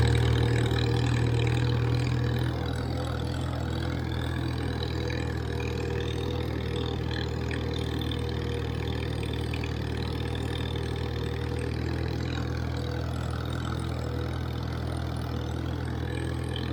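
A Farmall 350 tractor engine idles steadily, a low even rumble that holds without pause or revving, with no talk over it.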